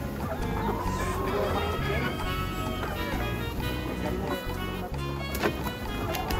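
Laying hens on a poultry farm cluck in a dense, continuous chorus against a steady mechanical hum and a high whine, with a voice speaking faintly underneath.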